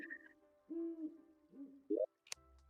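Owl in the video game Terraria hoots in a few short, clear tonal calls, quiet and close, with a brief click near the end.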